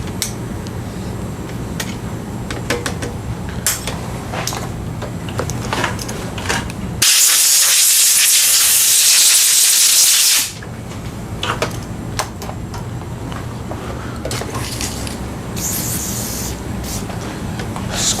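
One Step cleaner sprayed onto the chain of a Trek gravel bike: a single loud, steady hissing spray burst lasting about three seconds, set against quieter workshop background noise before and after.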